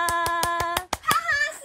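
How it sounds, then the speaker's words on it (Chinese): Welcoming claps for a guest arriving at a live-streamed game event: five or six sharp, evenly spaced claps close to the microphone, then a voice breaks in. "请大家跟我一起用热烈的掌声来欢迎我们的领林来到现场。"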